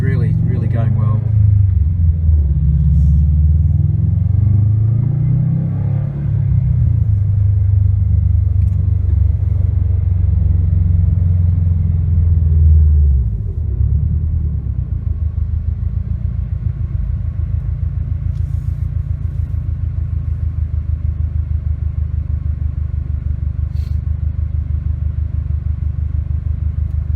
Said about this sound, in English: I'll try not to talk throughout so you can actually hear the exhaust and what it's like